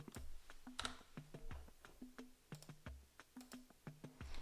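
Computer keyboard typing, a run of quick, uneven key taps and clicks in short bursts, fairly close but quiet, with no talking over it.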